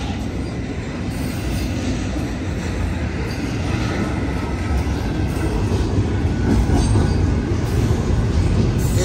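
A heavy Union Pacific intermodal freight train rumbles steadily past a grade crossing at close range, a loud continuous roar of wheels and rail noise with faint squeals, and no talking.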